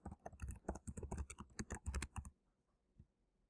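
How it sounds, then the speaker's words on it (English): Typing on a computer keyboard to enter text into a presentation slide: a quick, dense run of close key clicks for about two seconds, then near silence with one faint click. "So to add text, you just click in the box and type whatever you want to say."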